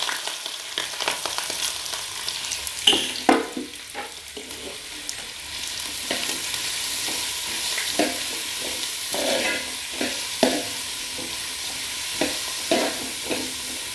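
Onion, green chili, garlic, ginger and curry leaves sauté in hot oil for a beef curry. A steady hiss of frying runs throughout, with sharp clicks and scrapes of stirring against the pan and no talk.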